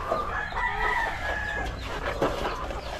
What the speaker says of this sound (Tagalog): Nandito na tayo sa mga mga nangingitlog nating manok.